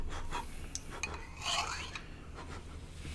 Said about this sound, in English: Don't scrape it on that